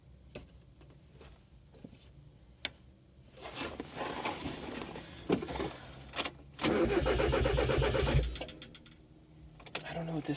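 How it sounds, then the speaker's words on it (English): A junk Mazda Miata with a failing fuel pump is bump-started. Its engine catches and revs unevenly after scattered clicks, surging loudest near the end before dropping back. "I got the Miata started and got it in, did a little bit of a bump start"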